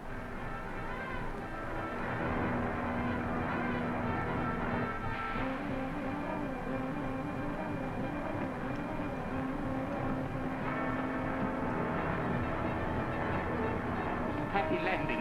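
A steady, continuous drone of an aircraft in flight fills a radio drama soundscape, a dense rumbling hum that holds at a constant level throughout.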